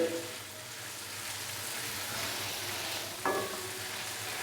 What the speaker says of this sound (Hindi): अदरक और लहसुन के पेस्ट को हम हल्का सा फ्राई कर लेंगे ताकि इसका कच्चापन खत्म हो जाए